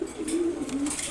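A silver gola pigeon coos in a low, steady, close-up murmur that runs the whole moment with two swelling notes and no talk.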